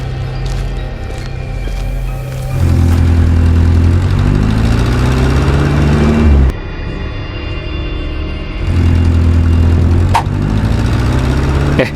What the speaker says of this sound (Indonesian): suara mobil. Ada yang datang.